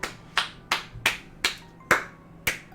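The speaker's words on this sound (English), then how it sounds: "give NSPA Reader a round of applause" Hands clap slowly and sharply in a single person's applause, seven distinct claps at an even pace of roughly one every third of a second to half second, close and clear with no voices.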